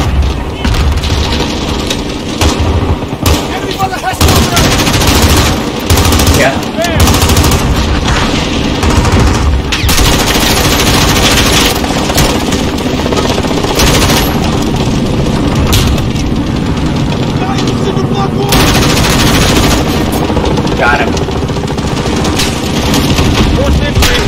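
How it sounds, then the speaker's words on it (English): Sustained machine gun fire in the video game Modern Warfare (2019), loud and continuous for about 24 seconds with dense rapid bursts, explosive booms and engine rumble mixed in, and a voice talking briefly underneath. "Ah, they got a machine gun."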